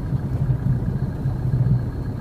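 A car engine runs at a low, steady idle-like rumble while the vehicle is slowly turned around on a narrow road, the throb pulsing gently and staying close throughout.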